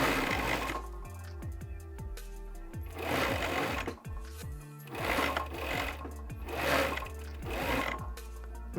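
A sewing machine stitching through four aligned layers of beanie fabric, running in loud rapid bursts with short pauses between, close and clear with no talk.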